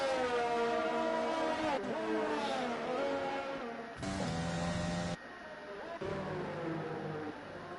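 F1 car engine in a sim racing video game at Spa: a high, buzzing engine note climbing through gears with abrupt cuts at gear changes and lifts, loud and close, no talk.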